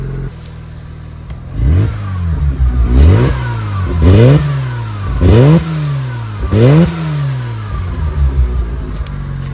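A Mazda RX-7 FD sports car engine revs repeatedly, six or seven sharp blips climbing and falling over a deep idle, loud and close with a bassy, raspy tone and no talking.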